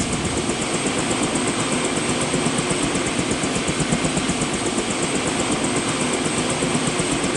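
A helicopter engine spools up for takeoff from a helipad in an airport tower video game, a steady loud turbine whine over a continuous rumbling roar, with no talking.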